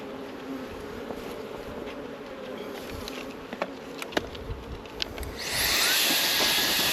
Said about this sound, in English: There are still a hell of a lot of bees here.